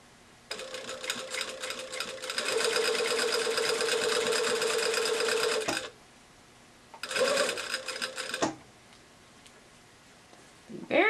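A sewing machine runs in bursts while basting a seam at a long stitch: a rapid, even mechanical whirring for several seconds, then a pause, a shorter run, and a final brief start, loud and close.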